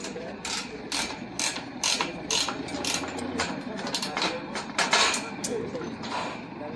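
A ratchet tightens a clamp on cantilever scaffolding under construction, giving a series of sharp metallic clicking bursts in irregular quick runs, close by, over a low background hum.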